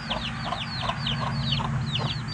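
Several chickens clucking close by in short, overlapping bursts, a busy farmyard chatter with a low hum underneath.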